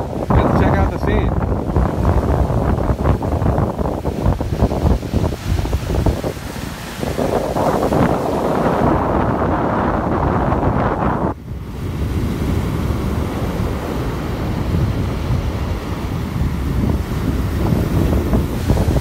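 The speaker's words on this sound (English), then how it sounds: "It's very windy here" Strong gusty wind buffets the microphone over the low roar of churning surf at Town Neck Beach on Cape Cod Bay, loud and continuous, with a voice speaking partly beneath it.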